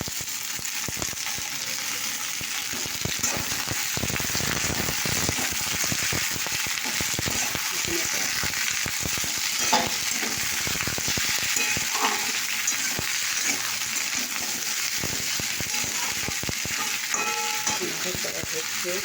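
Potatoes, ivy gourd and onion fry steadily in a pan, a continuous close sizzle with occasional scraping stirs throughout, no talking.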